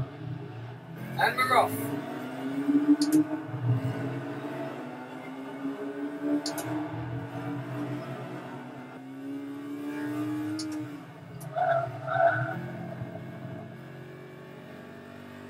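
Engine revving and whirring from a racing video game on Xbox One, driven with a Thrustmaster Ferrari 458 steering wheel; pitch climbs and falls through gear changes, with someone talking over it.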